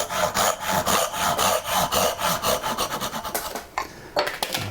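A hand saw rasps back and forth through wood cutting dovetail tails, a steady rhythm of loud close strokes that slows and stops near the end.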